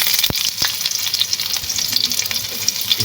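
Onions fry in hot oil in a pan, sizzling loudly and steadily with sharp popping splatters up close.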